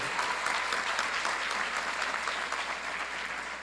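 A church congregation applauding during a worship conference, continuous full clapping throughout at moderate level, with no break.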